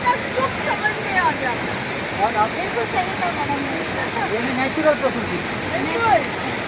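A waterfall in the green hills of Andar Maval sends out a steady broadband rush that runs the whole time, with people talking over it.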